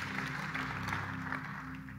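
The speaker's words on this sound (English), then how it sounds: "Can we give the Lord a hand clap and tell him that we love him?" Soft, diffuse applause from a church congregation at a worship service, a faint wash of hand clapping over a sustained hum or held musical tone, heard from a distance.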